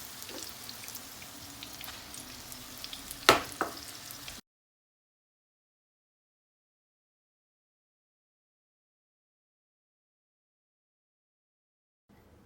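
Potato balls frying in hot oil, a soft close sizzle with a few louder pops, cutting to silence after about four seconds.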